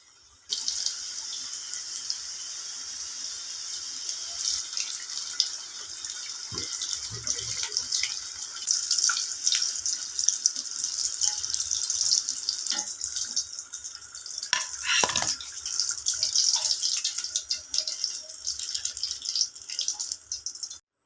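Wheat flour samosas fry in hot oil, a continuous close bubbling sizzle lasting about twenty seconds with a few louder crackles and splutters along the way.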